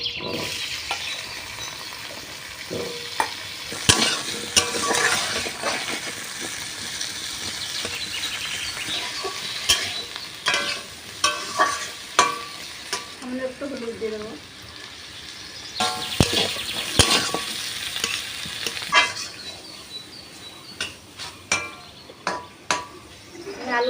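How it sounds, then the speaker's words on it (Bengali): Potatoes fry in oil left over from frying eggplant, a steady sizzle broken by repeated scraping and knocking of a spatula in the pan, with faint birdsong in the background. "এর তেলের ভিতরে আলু কটা ভিজে নেব"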